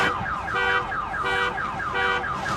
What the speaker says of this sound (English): Deactivate the car alarm